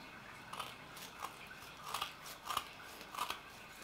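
Scissors cut Japanese filter matting for a pond planter filter box, giving about five soft, crisp snips at a steady pace, quiet and close.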